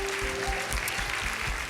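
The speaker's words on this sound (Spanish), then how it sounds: "La Iglesia de Cristo Viene le da un aplauso al Señor por toda esa gente que nos está viendo." A church congregation at a Spanish-language worship service claps in praise, a steady wash of applause with a sustained organ-like tone and low thumps underneath.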